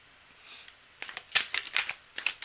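Tarot cards are shuffled in quick, papery bursts of riffling and snapping, close and crisp, in several clustered rounds without talk.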